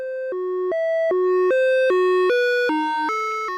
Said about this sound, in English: On the right channel is the same sine wave through the Toppobrillo triple Wavefolder.